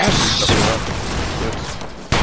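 Loud, dense rolling volley of musket fire from line infantry in the game Battle Grounds III, a burst of overlapping gunshots filling the whole moment.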